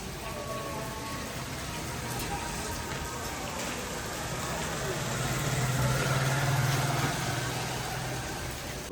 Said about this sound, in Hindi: बाहर अब बारिश हो रही है